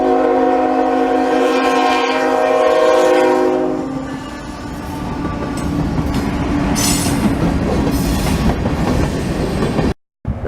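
A CSX freight train led by an ES44AH locomotive sounds its horn loudly and close for several seconds, then the rumble and clatter of passing railcars carries on after it.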